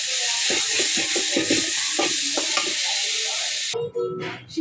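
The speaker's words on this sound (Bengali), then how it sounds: "এখন ভাজা ভাজা হয়ে গিয়েছে এখন নামিয়ে ফেলবো কারণ পেঁয়াজগুলো অত ভাজা যাবে না" Onions sizzling steadily in a hot pan while being fried for taki fish bharta, a loud, close hiss with scraping stirs, cutting off abruptly near the end as the pan is taken off the heat.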